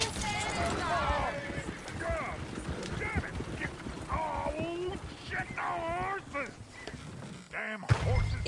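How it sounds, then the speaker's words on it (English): Horses and a coach in Red Dead Redemption 2: steady hoof clip-clop with an occasional whinny, mixed under people talking in the game, with a sharp thud near the end. "Damn horses."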